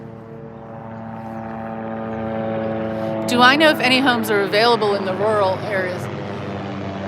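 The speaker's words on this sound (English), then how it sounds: "Helicopter." A helicopter flying overhead in Westminster, Maryland gives a steady, low droning hum that runs through the whole stretch, with a person talking over it partway through.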